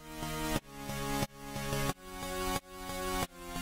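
A squeaky, buzzy synth bass made in FL Studio Mobile for a track plays a repeating phrase, each note swelling and then cutting off sharply in a steady rhythm, with no voices.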